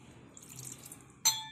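A pot holding two cups of water is set down on a gas stove with one sharp metallic clang that rings briefly, preceded by faint clinking and rustling in a quiet kitchen.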